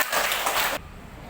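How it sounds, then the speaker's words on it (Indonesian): Short burst of applause from a classroom of students, steady clapping for under a second before it abruptly cuts off into quiet room noise. "tepuk tangan untuk kelompok 2"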